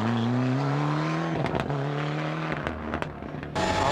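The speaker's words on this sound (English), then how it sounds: "David McNulty makes a cautious start in the flame-spitting Escort Cosworth." Ford Escort Cosworth rally car pulling away at a rally stage in Donegal, Ireland, engine revving steadily then rising through gear changes with pops, loud and close.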